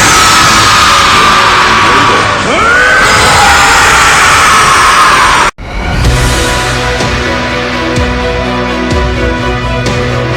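An animated Saiyan character screams at full force while powering up and transforming, a sustained loud yell that breaks off suddenly and gives way to a roaring burst of energy and effects.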